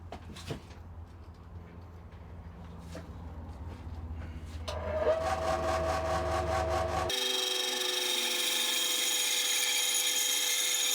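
A power tool cuts a wooden tenon for a Telecaster-style guitar neck, starting as a lower whir with clicks and then rising into a loud, steady high-pitched whine that runs continuously and close by.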